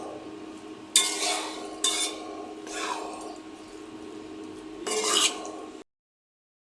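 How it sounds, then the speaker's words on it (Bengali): Vutum fish paturi stirred in a pan set on a stove, a few separate scraping, squishy stirring strokes, fairly close, with quiet gaps between them and silence at the end. "এখন আমি একটু নেড়ে দেখবো কেমন হয়েছে"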